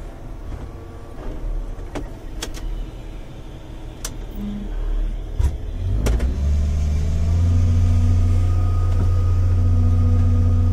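A combine harvester shells corn in a field, its engine a steady, close mechanical drone that swells louder and fuller partway through and holds there to the end.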